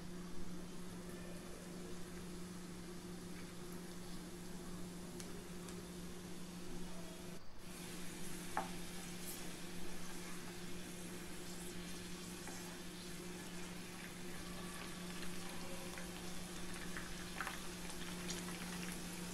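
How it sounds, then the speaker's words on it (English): Strips deep-frying in hot oil in a pan over a medium flame, giving a steady, continuous bubbling sizzle with faint crackles throughout, no voices. "Heat oil in a pan over medium flame and deep fry till it turns crispy and golden brown."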